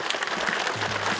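Audience applause at a public lecture in a hall, a steady wash of many hands clapping close and fairly loud throughout, with no voices over it.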